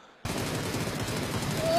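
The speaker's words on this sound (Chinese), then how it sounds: "来了，开枪连打带补" Gunfire in a PUBG esports match at the PCL tournament breaks in abruptly and continues as rapid, sustained automatic shots, loud and close, building slightly toward the end.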